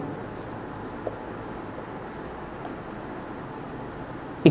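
A pen scratches continuously across paper as linear equations are written out by hand, a soft steady scratching with a faint tap or two and a sharper knock at the end.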